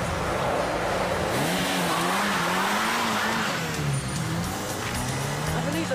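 A car drives off and accelerates, the engine note rising and wavering as it revs away, with a brief tyre squeal and dramatic scoring layered under the scene, while voices speak briefly over it.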